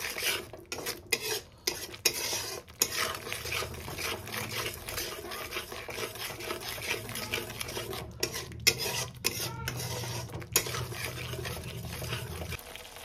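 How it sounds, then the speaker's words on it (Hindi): Steady scraping and stirring of mustard spice paste with salt in a bowl, with occasional sharp clinks of a utensil against the side, continuous and close. "मसला सहित ये सब हमें भल भाव में मिक्स करना।"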